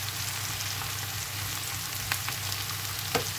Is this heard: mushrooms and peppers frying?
yes